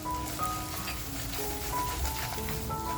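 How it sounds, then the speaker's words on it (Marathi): Saoji-style masala fries in a pan for surmai fish masala, giving a continuous close hissing sizzle with a faint melodic tone running beneath it. "तर बघा मसाला आपला छान याच्यामध्ये आपल्याला फ्राय करून घ्यायचा आहे"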